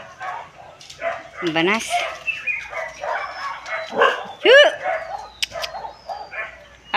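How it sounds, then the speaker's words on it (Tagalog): A dog barks and yips across the way at a rural home, sharp whiny barks in short bursts, fairly close and loud, mixed with people talking nearby. "Nagkakaingay po ang aso doon sa kabila."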